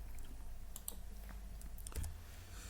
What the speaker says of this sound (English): we bring up the log file by typing L on the keyboard